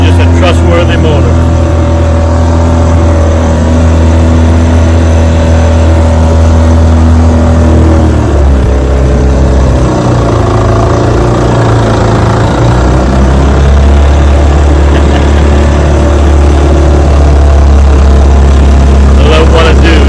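A restored 1956 Gale Buccaneer outboard motor runs loud and close with a steady, droning hum that sags briefly in pitch midway before settling back. Someone talks over the engine throughout.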